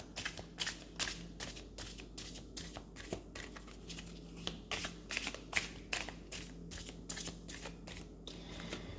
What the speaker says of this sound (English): So I'm starting with clearing the cards.